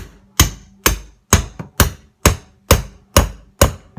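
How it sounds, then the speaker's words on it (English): A hammer strikes the back of a kitchen knife to cut through an acorn squash, eight sharp, close, evenly spaced knocks with a short thud after each. "hit the hammer on the knife with my dominant hand"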